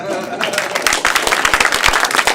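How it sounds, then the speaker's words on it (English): A crowd bursts into steady applause, many hands clapping together loudly and continuously. "Let's give Jocelyn a round of applause."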